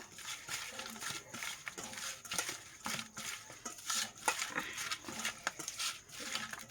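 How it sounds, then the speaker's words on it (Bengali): Puti fish being mixed by hand with salt and turmeric in a kitchen, giving soft wet squelches and light clinks against a metal bowl, a quiet irregular patter close by with no talking. "তা মাছটা এখন আমি একটু নুন আর একটু হলুদ দিয়ে একটু ভালোভাবে মেখে নেব।"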